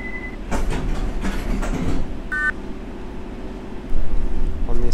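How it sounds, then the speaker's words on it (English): London Underground Circle Line train in the simulator World of Subways, with a steady rumbling rail hum, a brief door-warning beep and a louder surge of motor noise near the end as it pulls away. "This train is ready to depart."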